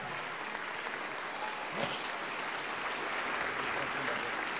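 A church congregation claps together in sustained, even applause that fills the whole stretch, with a brief voice rising faintly once in the middle.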